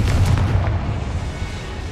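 Confringo fire spell exploding in the Hogwarts Legacy game, a deep rumbling blast that hits at the start and fades into a low, sustained roar.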